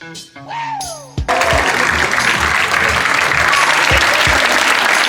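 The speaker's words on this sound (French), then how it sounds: "Je vous demande tout de suite d'accueillir sous un tonnerre d'applaudissements" Brief tones and a voice open before a thunderous burst of applause breaks out from a theatre audience, sustained and loud with a few thumps, continuing to the end.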